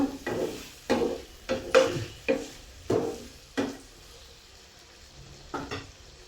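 Tomatoes softening in a pan for an aloo-tomato curry, heard as a low sizzle broken by a series of sharp stirring scrapes, close and rhythmic before tapering off.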